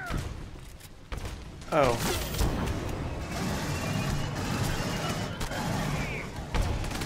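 Video game combat from Aliens: Colonial Marines with an incendiary round fired, mixing heavy gunshots, thuds and whooshing fire or ricochet sweeps in a dense, loud battle, with a brief spoken exclamation.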